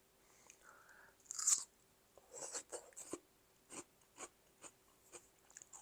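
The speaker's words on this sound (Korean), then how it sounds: "그냥 아삭아삭" Crunchy, crisp bites of a nearly raw filling from octopus, crab and shrimp okonomiyaki, a quiet, close series of separate crunches and chewing clicks spaced irregularly.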